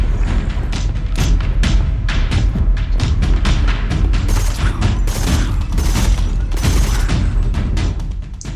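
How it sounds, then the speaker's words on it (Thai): Rapid, relentless gunfire in the video game Deathly Stillness as zombies are shot, with dense overlapping bursts of shots and booming impacts running the whole time. "ยิงซอมบี้นะ"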